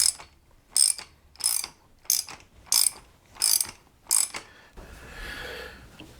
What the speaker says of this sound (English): we're going to go ahead and tighten this down.